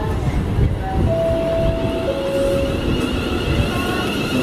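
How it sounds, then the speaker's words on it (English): A Class 350/1 four-car electric multiple unit at a station, heard as a steady rumbling rail roar with a long whining motor tone, continuous and fairly loud with no talk over it. "And this is it, my four car unit, 350."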